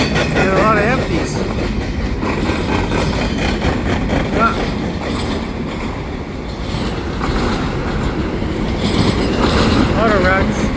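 Canadian Pacific freight train with mid-train DPU and many empty cars passes close by, a loud continuous rumble with clickety-clack wheel rhythm and occasional wheel squeals, faint voices underneath.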